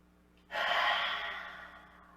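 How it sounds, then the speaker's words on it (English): A single big inhale during a slow-flow yoga session: after a quiet moment, a close, breathy intake of air swells suddenly and then tapers off gently. "Let's take a big inhale"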